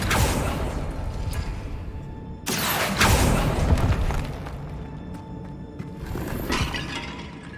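Accio summoning spell cast in Hogwarts Legacy, a pair of loud magical bursts with shattering, whooshing crashes, the second one fuller and longer, followed by a quieter trailing effect.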